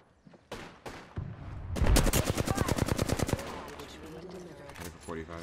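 Gunfire erupts in the Apex Legends video game on the World's Edge map: a few separate shots, then a rapid, loud automatic burst lasting over a second, followed by quieter game sounds.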